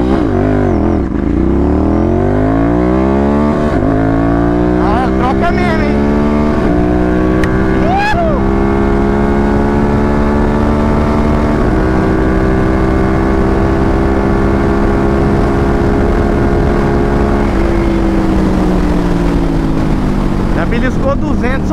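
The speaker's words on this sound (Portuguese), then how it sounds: "Dá uma puxada saindo parada aqui pra ver como que vai ser a reação da moto" A Ducati 796 motorcycle fitted with a titanium exhaust accelerates hard from a standstill. The loud engine note climbs steeply, then holds a high, sustained roar close by. A voice talks briefly over it.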